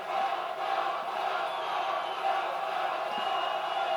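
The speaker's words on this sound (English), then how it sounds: "Listen to the crowd." A rally crowd at a Donald Trump event in Fort Worth, Texas, cheering in a dense, steady roar that stays loud throughout.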